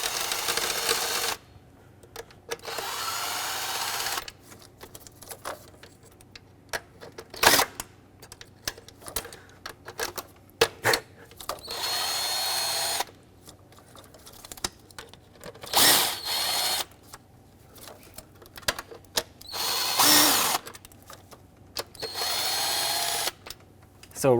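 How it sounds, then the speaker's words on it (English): A power tool backs out intake bolts on a 2009-2019 Ford Flex during a valve cover gasket job, whirring in close, loud bursts of a few seconds each, with short pauses and clicks between them. "Okay, now let's remove the bolts completely"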